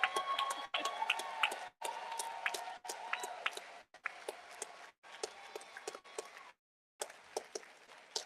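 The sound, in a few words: rally crowd clapping and cheering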